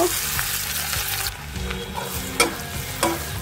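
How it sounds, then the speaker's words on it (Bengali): Hilsa fish roe frying in hot oil with onion, a dense steady sizzle close by, broken by occasional spatula scrapes and clinks against the pan. "কিছুটা ভেজে নিয়ে তারপর এখানে পেঁয়াজ দিয়ে দিব"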